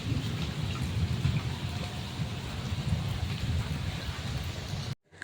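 Heavy monsoon rain pours steadily onto a house and yard, a dense continuous roar with low rumbling, loud and close, cutting off abruptly near the end.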